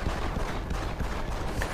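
Rapid bursts of video game gunfire from Deus Ex: Human Revolution rattle continuously in a dense, loud volley lasting under two seconds.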